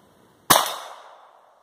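A single sharp crack from a Browning Buckmark .22lr pistol fired at a range, sudden and near, followed by a brief ringing decay, with quiet before it.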